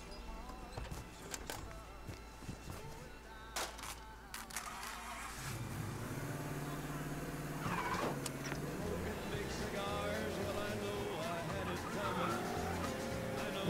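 Car driving in the video game Mafia III, engine droning steadily with tire skids and squeals rising in the second half, loud and continuous under background game sound, with a voice talking faintly.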